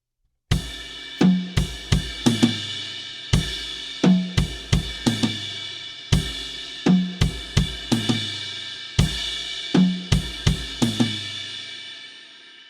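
Washy cymbal on a drum kit, played as a crash/ride pattern in a beat, sounding over a repeating rhythm of low drum hits, with a steady shimmering wash sustaining throughout, close and moderately loud, with no talking.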